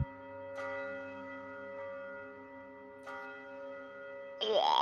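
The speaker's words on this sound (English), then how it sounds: "Shortly after, you also start hearing some bells." A church bell in the fantasy city of Waterdeep tolls twice, about two and a half seconds apart, each strike ringing out with a long, sustained hum, followed by a brief sharper sound at the end.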